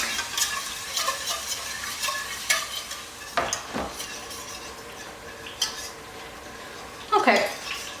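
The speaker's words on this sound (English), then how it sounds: "Then we're going to get this back on the heat and continue to whisk." A whisk stirs and scrapes through a cream sauce in a pan on the heat, with a soft sizzle underneath and occasional sharp clinks of metal against the pan.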